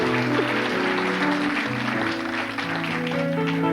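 A theatre audience applauds steadily as a performer is welcomed on stage, a continuous dense patter of many hands blended with loud music playing underneath.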